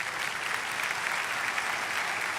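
An audience applauds a couple standing for recognition at a church event, steady dense clapping from a large crowd filling the whole stretch with no voices over it.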